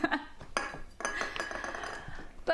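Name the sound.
dishes and cutlery clinking while cleaning up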